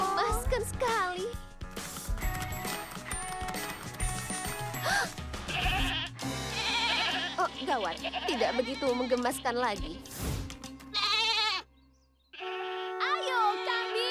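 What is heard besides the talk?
goats bleating in a Barbie cartoon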